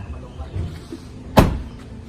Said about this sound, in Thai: เดี๋ยวปิดประตูก่อน